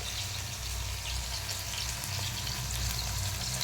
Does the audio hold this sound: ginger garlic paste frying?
yes